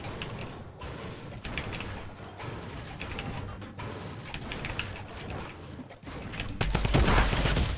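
A Tommy gun fires in rapid automatic bursts in the video game Fortnite, among clicking, mechanical game effects. The shots are moderately loud and grow into a louder burst at the end.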